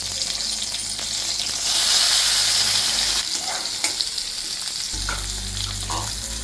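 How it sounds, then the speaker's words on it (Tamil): Bitter gourd pieces fry in hot oil in a pan, a steady close sizzle that swells louder and brighter for a moment, with faint stirring clinks and no talking. "இது பார்க்காய் மூலம் நல்லா ஃப்ரை பண்ணி எடுத்துக்கணும்"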